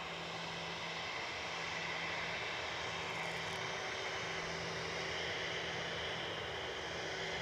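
An Aer Lingus airliner at Edinburgh Airport, a steady broad engine roar with a low hum that stays loud and even throughout, no voices.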